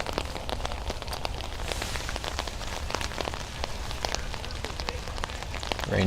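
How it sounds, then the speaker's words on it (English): Steady rain falls on an outdoor field during a high school football game, a continuous close hiss of drops with scattered sharper patters and no talk. "Rain has quieted down somewhat, but still steadily coming down."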